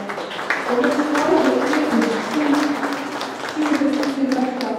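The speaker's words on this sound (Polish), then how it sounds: "Gratulacje i może oklask." An audience at a Polish press photo contest exhibition claps for an award winner, a steady crowd applause lasting a few seconds with voices murmuring underneath.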